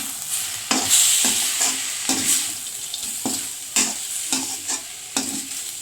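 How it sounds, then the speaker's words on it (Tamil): Aarai keerai poriyal with ground peanuts and grated coconut is stirred in a pan, a spoon scraping and tossing it in repeated strokes over a soft sizzle, with no talking. "திருவுண தேங்காயையும் போட்டுட்டு நல்லா கலந்து கொடுத்துக்கலாம்"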